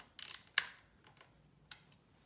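A ratchet wrench breaks loose the breather bolts on a Harley Sportster CV carburetor, giving a few sharp, close clicks and ratcheting bursts separated by short pauses.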